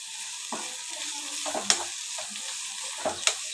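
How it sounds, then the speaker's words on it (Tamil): Broad beans with grated coconut being sautéed in a pan: a steady soft sizzle under repeated scraping stir strokes, with a couple of sharp utensil clicks against the pan, close up and with no talk. "அதை நல்லா வதக்கி விட்டுக்கலாம்"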